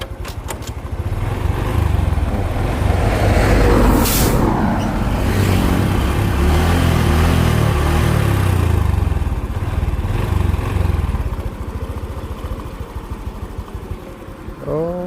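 A motorcycle engine, a father-in-law's bike that broke down on a trip home and starts but fails when put in gear, cranks into life and revs loudly and steadily nearby before easing off near the end.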